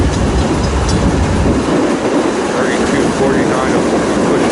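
A train rumbles steadily along the tracks close by at Woodbourne Station, a continuous heavy roll with faint wheel clatter and squeal.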